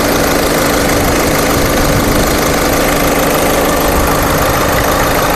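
A 2013 Volkswagen Vento's engine idles steadily, loud and close, with a continuous even rumble and no voices.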